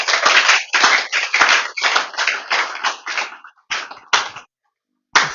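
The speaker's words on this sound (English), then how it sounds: "can I hear another round of applause?" An audience at a live talk event claps in a burst of applause that thins into a few scattered claps, pauses, then picks up again with a last clap near the end. No one speaks over it.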